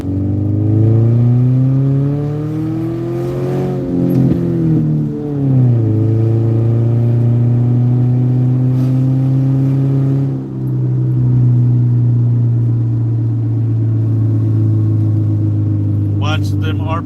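A car engine revs up and down close by in several rising and falling sweeps, then holds a steady high idle, while voices talk over it.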